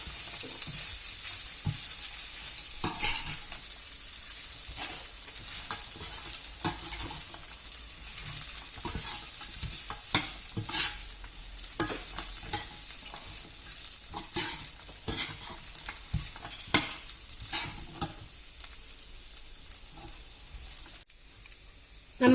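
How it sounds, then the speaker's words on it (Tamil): Flattened rice upma is stirred in a hot pan, a steady close sizzle broken by repeated scraping strokes of the spoon, with no voices. "இப்ப நம்ம நல்லா கிளறி விடுவோம்"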